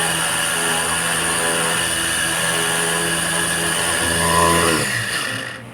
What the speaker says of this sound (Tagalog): Pero para mabilis ay gumamit ako ng blender o kaya ng processor.